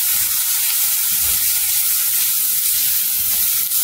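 Spices with amchur powder sauté in a hot pan, a loud, dense and unbroken sizzle of hissing oil close at hand, with no voices.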